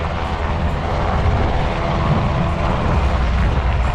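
A Coast Guard rescue aircraft hovers nose into the wind during a rescue demonstration, producing a loud, continuous roar with dense low rumble and no voices.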